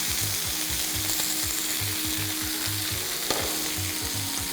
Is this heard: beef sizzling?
yes